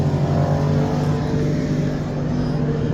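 A J.B. Hunt truck pulls in close by with a loud, steady engine rumble and low drone that holds level throughout.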